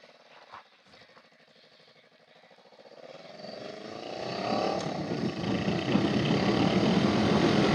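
A 2021 Honda Rebel 500 motorcycle with new shocks out on a ride: engine drone that builds as it speeds up, then settles into a loud, steady roar mixed with rushing wind.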